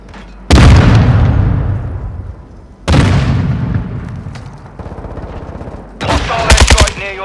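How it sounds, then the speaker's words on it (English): Grenade blast and gunfire in Call of Duty: Modern Warfare II, with three loud booming explosions at intervals, each rolling off into a long decay, and a burst of rapid gunfire near the end. "Throwing grenade!"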